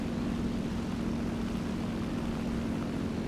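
The piston engine of an FW 190 A-4 fighter plane in the War Thunder video game drones steadily and continuously, a loud even roar with no talking.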